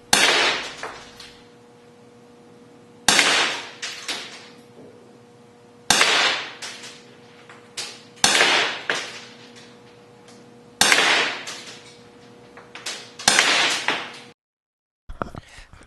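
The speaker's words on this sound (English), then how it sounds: "I took a few shots at this target from about 50 feet back" A WG Sport 7 airsoft revolver is fired at a target about 50 feet away, giving six sharp, loud cracks spaced a few seconds apart, each followed by a short rattling decay.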